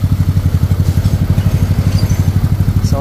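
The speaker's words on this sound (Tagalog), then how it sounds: "Ayan, sound check tayo. Tunog Evo." A Mio 160cc scooter with an aftermarket exhaust pipe idles close to the microphone with a steady, rapid exhaust putter, even and unbroken throughout.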